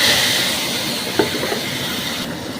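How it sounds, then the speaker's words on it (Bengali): Beans and potatoes hiss steadily in hot mustard oil with asafoetida over a lowered gas flame, with a single small clack partway through. "শিম আর একসাথে দিয়ে দিলাম শিম আলু"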